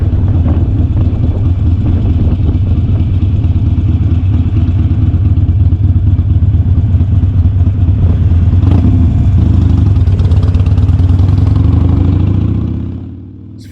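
Motorcycle cruising leisurely through a town on a cold December ride, a loud steady close-up engine drone with low rumble throughout, easing off and fading at the very end.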